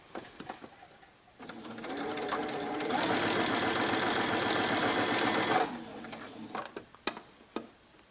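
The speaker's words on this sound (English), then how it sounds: "I'm just going to sew them together to give it more volume" A sewing machine runs steadily for about four seconds, stitching two layers of dress fabric for a 1960s vintage feathered dress, its fast mechanical whir rising and settling, with quiet clicks and handling noises before and after.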